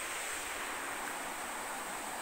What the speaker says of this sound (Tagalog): Yan yung sapa, kailog.